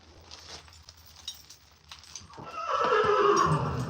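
A Clydesdale horse lets out a loud, drawn-out whinny near the end, preceded by quieter shuffling and faint hoof clopping nearby, with no talk.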